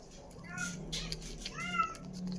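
A hungry cat meows several times in quick succession while waiting to be fed wet cat food, close and clear, with a person talking softly in the background.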